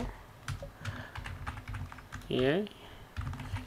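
Someone types on a computer keyboard while writing an invoice in MS Word, producing soft, steady clicking keystrokes close by, with a brief burst of speech partway through.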